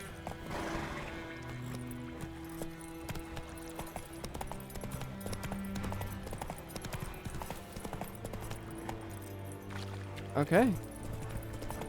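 Roach the horse's hooves clip-clop at a steady gait in The Witcher 3, mixed with game music and ambience, ending in a brief whinny; someone talks briefly over it.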